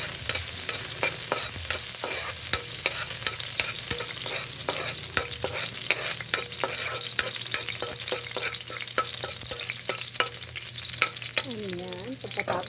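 Garlic sizzles steadily in hot frying oil for pancit guisado while a utensil stirs it, with frequent sharp scraping clicks against the pan over the continuous hiss.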